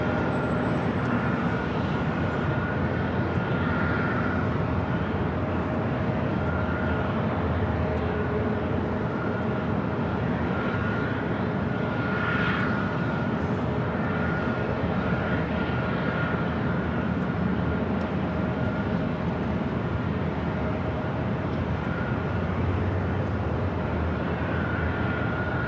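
A jet airliner landing on runway 24 left at LAX roars steadily and loudly throughout, a broad continuous engine rumble with no voices.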